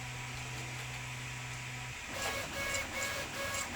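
A 3D printer loaded with gold PLA filament resumes after a filament-stuck error. A steady hum changes to rhythmic, whirring stepper-motor tones with repeated short pitched bursts, close and fairly quiet.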